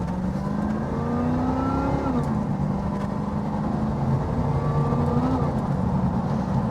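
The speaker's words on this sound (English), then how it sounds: "let's just get a bit more sound from that engine again" A 1988 Pontiac Firebird engine roars under full throttle, its pitch climbing and then dropping at each gear change, twice in succession, loud and close with no talk.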